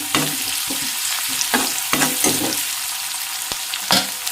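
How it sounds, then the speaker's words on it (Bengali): Ginger-garlic paste frying with onions in hot oil for a vegetarian thali, a steady close sizzle broken by several sharp stirring scrapes and clinks spread through the clip, with no one speaking. "অকণমান আদা নহৰুটো কেঁচা গোন্ধ যোৱালৈকে ভাজি লওঁ"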